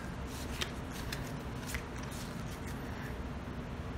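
A starting deck of cards for the Clank! In Space! board game being shuffled, close and steady with a few sharper riffles and snaps over a low background hum.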